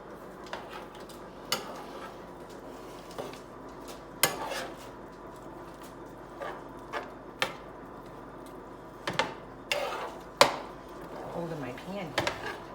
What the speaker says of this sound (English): now we have all that put in and we mix it all together